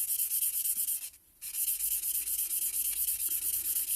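A Norfolk reed stepped waggler float body is rubbed down with a steady, close, dry rasping scrape that breaks off briefly near the one-second mark and then continues unbroken, with no voices.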